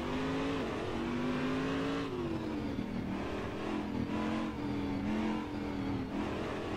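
Corvette DP race car engine revving in the Assetto Corsa driving simulator, heard from the cockpit: a loud, continuous engine drone whose pitch rises and falls with shifting revs, alone with no talk.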